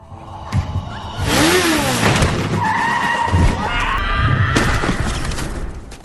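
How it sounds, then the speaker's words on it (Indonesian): A motorcycle skids in a film scene and strikes a person, with a loud screeching slide followed by crashing impact noise and a rough engine rumble, fairly close and intense throughout. "Seperti halnya anak buah White Shark tertabrak pengendara motor yang juga meleng"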